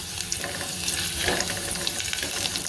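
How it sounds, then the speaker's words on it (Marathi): Crushed garlic cloves sautéing in hot oil with cumin and mustard seeds give a steady, close sizzle with faint crackles throughout. "आता लसूण थोडंसं परतून घ्यायचं आहे"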